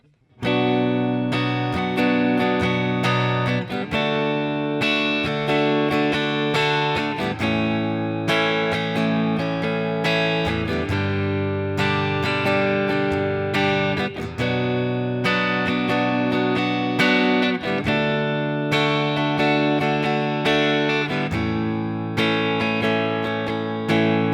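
An electric guitar strums a bridge chord progression in steady rhythmic patterns, bright and continuous with no voices.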